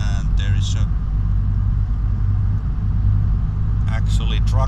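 Audi A8 1.2 TDI diesel engine pulling from low revs as the throttle is pressed, a steady deep rumble heard from inside the car with brief bursts of talk over it.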